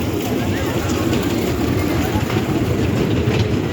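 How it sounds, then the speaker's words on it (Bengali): A children's ride train approaches at Green Valley Park in Natore, a loud, steady rumble with faint clatter running close by throughout, with voices chatting over it. "ছোট বাচ্চাদের ট্রেন আছে, এই যে দেখেন আসতেছে।"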